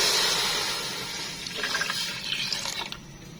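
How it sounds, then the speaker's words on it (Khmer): Two liters of water pour into a pot of melted palm sugar, a loud close rushing splash that gradually eases into a gurgling fill, with no talking. "បន្តមកទៀតនេះខ្ញុំចាក់ទឹកចំនួន2លីត្រចូល"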